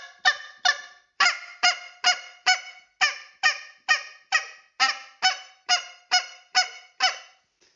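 Goose call blown in a rapid series of about fifteen short honks alternating between two different notes, sharp clucking bursts in a steady rhythm, close and clear with no talking.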